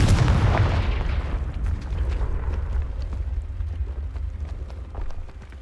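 The Confringo fire spell bursts in Hogwarts Legacy as a heavy, close explosive boom. A rumbling blast tail fades across several seconds beneath a scatter of small crackles.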